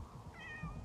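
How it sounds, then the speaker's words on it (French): Cat meowing in the video game 11-11 Memories Retold, one short faint meow rising over a low background rumble, no voices. "Ah, il est là mon petit chat."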